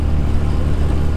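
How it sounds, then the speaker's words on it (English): An off-road vehicle with a broken driveshaft crawls over rough terrain at about 10 miles an hour, making a close, continuous low engine and drivetrain rumble with no talking. "We're currently driving out of here at 10 miles an hour."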